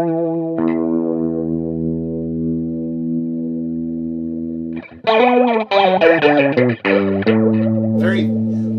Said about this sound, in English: Very old school vintage sounding flanger, which I really like.